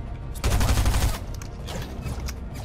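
Rapid automatic weapon fire in the video game Fortnite, a loud close burst of shots followed by further quicker volleys, with no talk.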